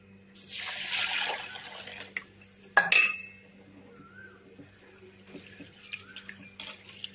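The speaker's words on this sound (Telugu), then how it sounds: "పెసరపప్పు కడుక్కుందాం." Moong dal is rinsed in water inside a pressure cooker: sloshing and swishing of water, a sharp metallic clink and splash partway through, then quieter intermittent dripping and light knocks against the pot.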